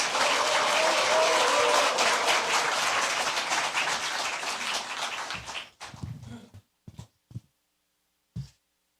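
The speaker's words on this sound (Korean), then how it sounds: "우리 안철수 의원님 큰 박수로 환영해 주시기 바랍니다." Loud applause from a crowd welcoming Korean lawmaker Ahn Cheol-soo to the stage, dense and steady for about five seconds before thinning into a few scattered claps and falling silent.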